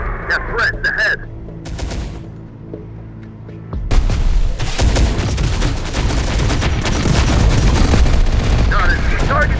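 Sustained gunfire in Terminator: Dark Fate - Defiance crackles in rapid, dense bursts after a quieter opening, loud and close, with heavy booms and continuous battle noise.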